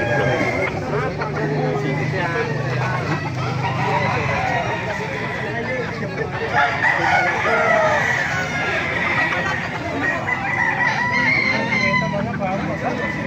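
SBR and Lemon Sweater gamecock roosters crow repeatedly at a busy Baliuag market stall, loud and close, over steady crowd babble and people talking nearby.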